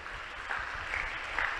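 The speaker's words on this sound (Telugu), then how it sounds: "కొట్టు చప్పట్లు ఒకసారి" Congregation at a Christian church service clapping together in a brief, steady burst of many hands, moderately loud and filling the room.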